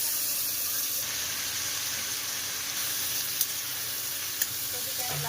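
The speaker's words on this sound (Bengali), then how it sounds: "এই ফুলকপিটা ভেজে নেব" Cauliflower frying in oil in a pan, a steady, dense sizzle running throughout with no talk, broken only by a couple of faint brief clinks near the end.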